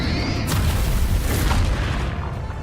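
A Bombarda spell explosion in Hogwarts Legacy during the final boss fight against Ranrok: a heavy, sustained booming blast with rumbling low-end and crackling debris, loud and close, fading slightly toward the end.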